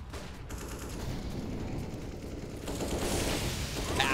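Dense, continuous automatic gunfire from the video game CS:GO, a sustained rattling barrage that grows slightly louder and busier toward the end, with no talk over it.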